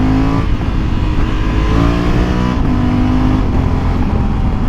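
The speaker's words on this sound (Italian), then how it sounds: "Sentite adesso il motore." Loud engine of a 2020 Honda Africa Twin 1100 Adventure Sports motorcycle running close by, its pitch rising and falling through several revs and gear changes with a rough, steady growl and no talking.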